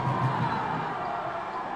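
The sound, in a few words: crowd cheering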